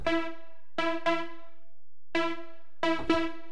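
An Afro house synth top lead, recreated from a track, plays a sparse pattern of short bright plucked notes in pairs separated by gaps, clean and alone.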